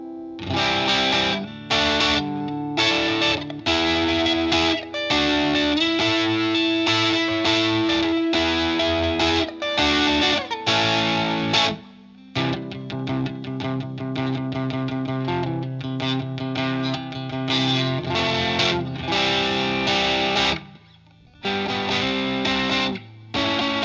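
An electric guitar played through a King of Tone clone pedal built as a Pedal PCB Paragon Mini, with the distortion side engaged. It plays gritty, overdriven chords and riffs in rhythmic phrases, with short pauses between them.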